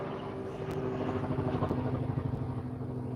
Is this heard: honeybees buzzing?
no